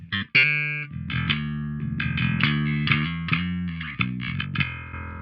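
A clean electric bass plays a short melodic line, notes ringing with a bright, slightly chorused tone, close and prominent with no talking.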